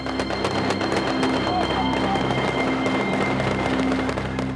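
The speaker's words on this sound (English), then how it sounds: "Explosions, gunfire, lead and shrapnel screaming through the air." Dense, continuous crackling bursts and pops, like rapid explosions and gunfire, loud and relentless over a steady low hum.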